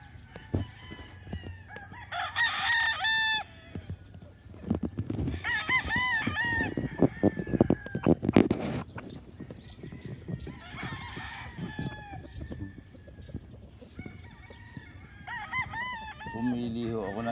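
Roosters crow repeatedly on a large gamefowl breeding farm in Lipa City, Batangas, Philippines, several birds calling in overlapping bursts near and far, with clucking, farm clatter and someone speaking between calls.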